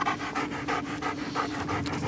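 A police search dog pants rapidly and steadily after searching an area, close and fairly loud, with short rhythmic breaths and no voices.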